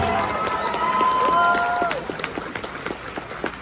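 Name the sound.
audience applause and cheering at an anime convention panel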